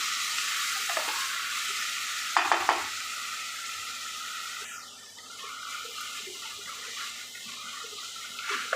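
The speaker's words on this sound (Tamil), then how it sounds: "150 கிராம் தக்காளியை சேர்த்துட்டு தக்காளியை நல்லா வணக்கிக்கலாம்." Tomatoes and onions sautéing in a pan for mushroom biryani, a soft steady sizzle with a couple of sharp spatula scrapes, close and quiet with no talk.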